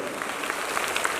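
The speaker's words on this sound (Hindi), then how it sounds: "ताली बजाइए जोर से" A school crowd at an Independence Day flag hoisting claps loudly on command: a continuous wash of many hands clapping at once, steady and dense for a brief moment.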